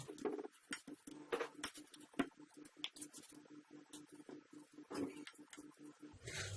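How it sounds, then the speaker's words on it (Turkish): A knife chopping tomatoes into large chunks on a board for a winter tomato sauce, a quiet series of irregular close taps and clicks with small pauses between cuts. "Sadece şu orta kısmını alıyorum ve iri iri doğruyorum."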